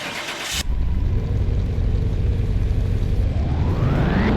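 A 1970 Mercury Cyclone engine in Car Mechanic Simulator 2021 fires up on a dyno after a brief quiet moment, then holds a loud, steady, close roar that climbs in pitch as it revs toward the end.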